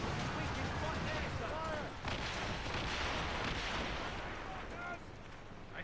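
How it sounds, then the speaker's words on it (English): Mortar and cannon fire rumble through a naval battle video game set at Louisbourg, with dense, continuous booming and crackling, occasional whistling shells, and a player talking over the barrage. "I need to get out of the way of that mortar."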